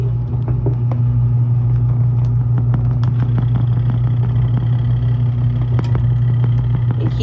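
A small portable washing machine spins a load while held down by hand to stop it rocking, giving a steady, loud motor hum with a low droning rumble and faint rattles throughout.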